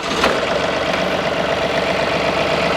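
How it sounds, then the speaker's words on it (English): A John Deere 3025E tractor engine runs at a steady, loud idle close by. A brief start transient comes at the beginning, then an even rumble with no talking. "So now I'll just turn on the key and give it just a second and go ahead and start the machine up."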